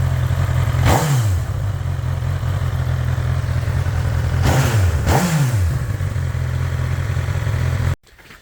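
A new Honda engine idles with a steady low drone, then revs up sharply with the throttle twice, once near the start and again midway, each rev rising and falling back before the sound cuts out abruptly.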